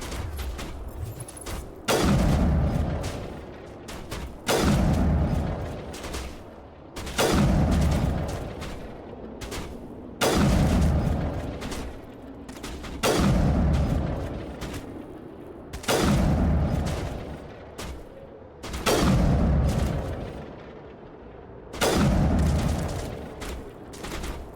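Repeated heavy gunfire aimed at a Krogan in Mass Effect 1 on Insanity difficulty, with loud bursts landing roughly every two to three seconds, each trailing off before the next one.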